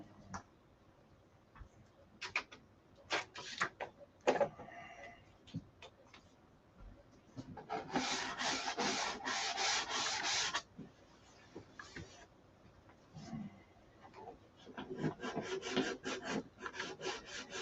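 Hand sanding of a white Dodge Viper car body with sandpaper: scattered rasping strokes, then a long, loud stretch of steady rubbing, then lighter intermittent scrubbing toward the end.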